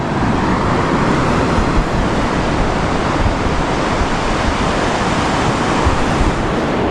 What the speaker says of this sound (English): This is as close as you could get to a private beach in New Jersey